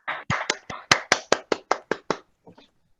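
Hand claps from an online annual meeting held over a video call, about a dozen sharp, evenly spaced claps in quick succession, close to the microphone, ending with a few faint taps.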